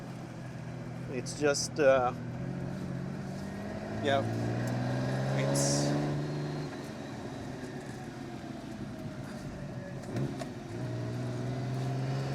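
A Lamborghini Countach 25th Anniversary with a V12 engine running from inside the cabin, a low steady drone with revs swelling and easing, beneath a man's brief speech.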